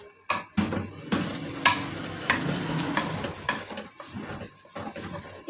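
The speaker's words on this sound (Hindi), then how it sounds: "साथ साथ हम इसको चलाते जाएंगे और इसके लम्स ख़त्म करते जाएंगे" A spoon stirring and scraping a thick semolina mixture in a pan while it cooks, with repeated uneven scraping strokes and soft sizzling, close and moderately loud.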